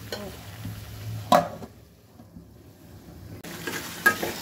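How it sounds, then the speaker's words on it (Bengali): Frying of vegetables, tomato and potato with a fish head in a pan, soft sizzling broken by a couple of sharp stirring clatters and a quieter lull in between. "সবজিটা বসাই দিলাম, একদম টমেটো আলু সব একবারে দিয়ে দিচ্ছি"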